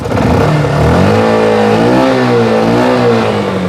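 A Yamaha FZ V1 motorcycle engine runs close by, idling steadily and then rising and falling in pitch as the throttle is blipped, loud with no talking.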